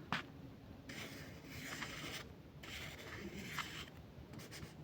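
Pen writing on paper while solving a Venn diagram problem with two circles: close, scratchy strokes in bursts with short pauses, no talking.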